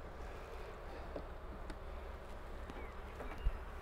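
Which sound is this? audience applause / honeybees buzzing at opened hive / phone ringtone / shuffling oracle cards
honeybees buzzing at opened hive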